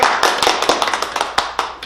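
Studio audience and panel on a Korean medical talk show clapping briefly, a quick burst of distinct, close claps in an uneven patter lasting under two seconds.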